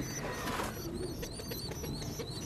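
Pigeons in a loft coo softly, low and repeated, with faint chirps from squabs over a busy, close background.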